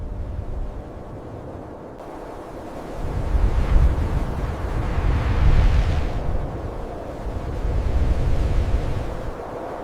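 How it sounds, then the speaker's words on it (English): Harsh desert wind sweeps across barren, empty land, a steady broadband roar that swells and eases in long gusts, buffeting loudly with no voices present. "the wind is the only constant, blowing across a harsh, unforgiving land"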